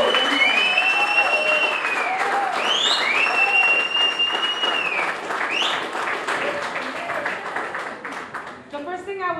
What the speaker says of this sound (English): So give yourselves a grand applause for being here.